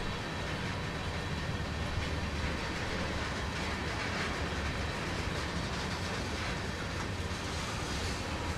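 A CSX heavy-haul freight train in the Train Sim World game rumbles along the track in winter, a steady dense roar of engine and wheels with faint clickety-clack, continuous and fairly distant.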